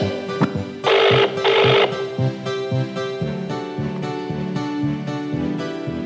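A telephone rings on and on without being answered, the ringtone repeating in a steady, fairly loud rhythmic pattern with no voices.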